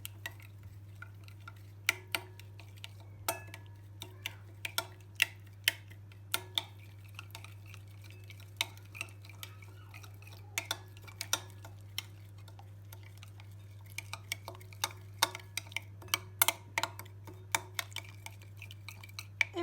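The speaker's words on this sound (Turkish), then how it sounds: "çeyrek limonun da suyunu sıkıyoruz ve sosumuzu hazırlıyoruz karıştıralım" A spoon taps and scrapes against a bowl while tomato paste sauce with lemon juice is stirred. The clicks are light and irregular, over a steady low hum.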